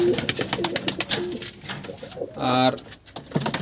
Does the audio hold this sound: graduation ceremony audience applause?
no